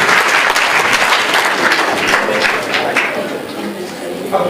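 An audience at a book signing ceremony applauds a generous honoree, a loud sustained round of many hands clapping that fades slightly near the end.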